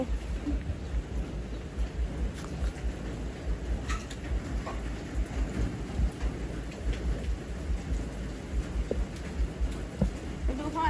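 Steady rain hisses over an outdoor yard where ground is being levelled for a concrete kitchen floor, with a low rumble that may be distant thunder and scattered faint bird chirps throughout.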